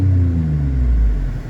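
A lowered Lexus IS250 with an exhaust damaged by hitting a deer rumbles loudly and deeply up close, its engine note sliding downward as the revs fall off.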